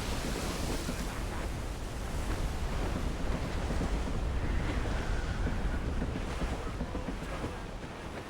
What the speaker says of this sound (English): Nature doesn't want us out here. She fights with a fierce wind.